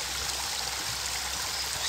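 Narzan mineral spring water flows steadily outdoors near the spring, a continuous bright rushing and trickling wash with no speech.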